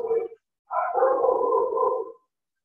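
A dog lets out a short bark, then after a brief pause a longer drawn-out howling bark-yowl, close and loud with no talk over it.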